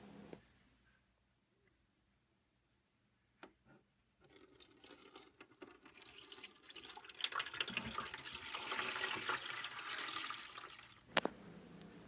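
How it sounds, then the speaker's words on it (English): Water gushes and splashes steadily after a quiet start, growing fuller and louder as it pours into a toy pool, with a couple of brief knocks near the end. "Now it's time to fill our pool with water."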